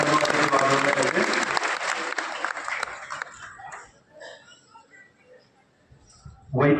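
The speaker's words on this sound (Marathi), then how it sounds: "जोरदार टाळ्या त्या ठिकाणी आपण वाजवल्या पाहिजे" A devotional gathering's audience claps loudly for a few seconds, then the applause thins out into scattered quiet sounds before a voice resumes at the end.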